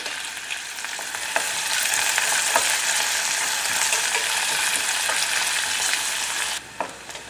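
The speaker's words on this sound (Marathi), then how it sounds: "कांदा थोडासा 2 ते 3 मिनिटं मी परतून घेणार आहे." Onion sautéing in hot oil with bay leaf and cinnamon in a pan, a loud, continuous close sizzle with light stirring scrapes that cuts off abruptly near the end.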